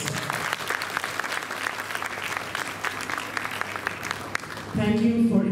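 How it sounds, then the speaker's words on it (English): Loud, sustained applause from a school audience at a children's rhyme and rhythm programme, a dense steady wash of many hands clapping that carries on for several seconds before a voice cuts in at the end. "I think the teachers really deserve a huge round of applause."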